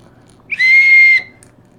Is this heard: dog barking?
no